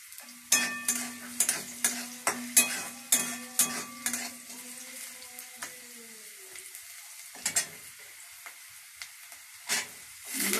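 Radish fries in a pan for spinach ghonto, with a rapid series of sharp spatula clanks and scrapes in a steady rhythm over a soft sizzle, then sparser knocks, close and clear.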